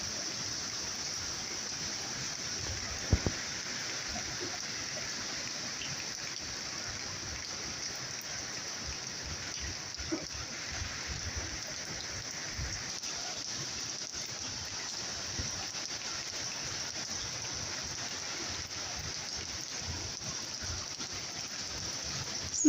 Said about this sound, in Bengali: কত সময় হয়ে গেল বৃষ্টি হইতেই আছে হইতেই আছে